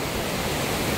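Water pours down from a dam in a dense, steady roaring rush that fills the whole moment with broadband noise, loud and close, with no voices.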